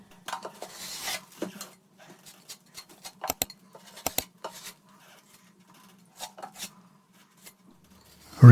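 Putty knife pressing wall filler into a wall crack, giving soft scraping and tapping clicks in irregular bursts, with a couple of sharper ticks midway, close and fairly quiet with pauses between strokes.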